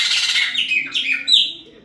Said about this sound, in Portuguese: Ele aqui cantando e trocando de canto.